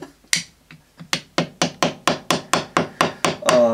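Repeated hard knife strikes chisel at a jawbreaker candy on a stick, about a dozen sharp, close, loud whacks in a steady rhythm, each with a brief ringing decay.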